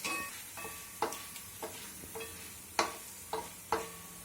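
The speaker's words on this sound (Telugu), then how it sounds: "ఫస్ట్ ధనియాలు, జీలకర్ర అవన్నీ వేసుకున్నాము. ధనియాలు వేగుతూ ఉన్నాయి." Coriander seeds and cumin dry-roasting in a pan, heard as a soft steady hiss with a few sharp clicks and taps from stirring, spaced irregularly, close and fairly quiet, with no talk.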